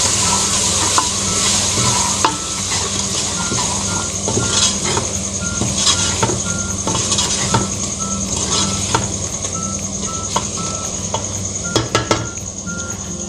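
Potato and eggplant frying with simple spices such as red chilli and salt, a loud continuous sizzle with scraping stirs and sharp clinks of a utensil against the pan, plus a steady background tone, no talking.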